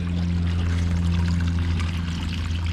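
Water splashes and pours steadily down the bottom of two waterfalls in a pondless garden waterfall, a constant close rushing flow with a low hum underneath.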